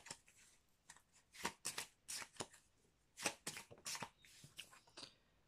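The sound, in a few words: shuffling a deck of oracle cards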